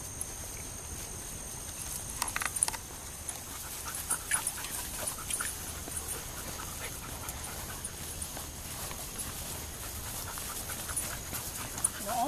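A dog panting quickly and rhythmically nearby, soft breathy huffs continuing throughout with faint background noise.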